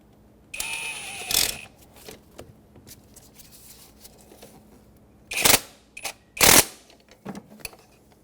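Ratchet wrench clicks tightening the lower ignition coil bolt on a 2003-2008 Subaru Forester, in short close bursts of metallic ratcheting separated by quiet pauses.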